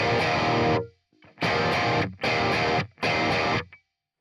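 Electric guitar played through the BIAS Amp 2 distortion amp simulator, with tube stages pushed and gain turned down: four loud, distorted strummed bursts with brief gaps between them, heard alone.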